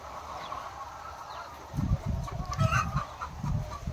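Laying hens in a poultry shed on a layer farm cluck in short, repeated bursts close by, over a steady hum of the shed and distant birds, growing busier in the second half.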